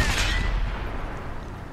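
A tank cannon shot from the FV215b 183 in World of Tanks on Xbox, a single deep boom with a sharp attack that fades into a low rumbling tail over almost two seconds.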